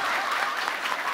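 Dense, lively clapping from a comedy club audience in Nepal, a brief unbroken burst of applause with no speech over it.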